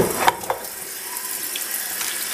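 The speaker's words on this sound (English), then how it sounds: "We want to fill the bag with water." Tap water runs steadily into a plastic bag being filled to freeze cleaned trout, a close, even hiss with a few small knocks at the start and no speech.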